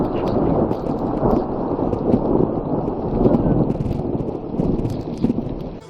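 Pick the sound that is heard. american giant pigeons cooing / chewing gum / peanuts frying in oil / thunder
thunder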